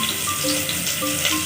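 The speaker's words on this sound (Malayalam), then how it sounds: "ഇനി ഒരു ചെറിയ സവാള ഇട്ട് കൊടുക്കാം." A small onion sizzles in a pan for mushroom curry, a steady close frying hiss with faint stirring, no talk.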